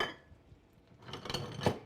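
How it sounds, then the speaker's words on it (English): Chopped leeks stirred in a pan of melted butter and olive oil, a run of soft metallic scrapes and clinks from the utensil against the pan, growing busier in the second half, close and fairly quiet with no talking. "And give it a good stir."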